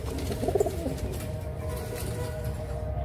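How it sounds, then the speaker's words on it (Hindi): Pigeons of the Amritsari breed coo softly in a short burst of gentle calls near the start, then a low, faint background hum continues with scattered soft bird sounds. "ये मेरे कबूतर हैं"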